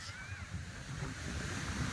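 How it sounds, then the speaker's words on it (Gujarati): Ocean waves washing in at a beach in Diu with a soft, rolling roar and some wind buffeting the microphone, moderately distant and faint. "મોજા મસ્ત લાગે છે"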